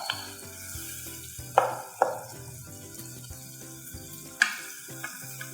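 Tomatoes and green chillies sizzle gently in a pan for palak chicken, a soft steady fry broken by a few sharp stirring scrapes and clatters, with no talk.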